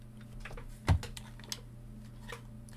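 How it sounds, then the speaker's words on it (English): Typing on a loud computer keyboard: a few quiet scattered clicks and one sharper thump stand out against a low steady background hum, with no talking. "my keyboard is really loud"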